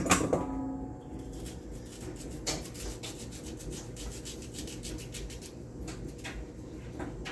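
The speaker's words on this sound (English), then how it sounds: "I'm finished peeling my sweet potato." A sweet potato is peeled by hand with a knife for Jamaican ackee and corned beef, giving soft, quiet scraping strokes close by, steady and continuous with a few sharper scrapes.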